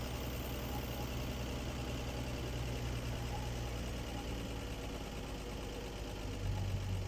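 A 1957 Chevy 3100 shop truck, long unused, idles with a low, steady engine rumble and a faint rhythmic knock, holding fairly even with a slight swell near the end.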